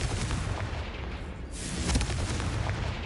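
A Confringo spell explosion in the Hogwarts Legacy video game lands as a booming blast with a dense rumbling tail, followed by a second sharp burst partway through. No voices are heard.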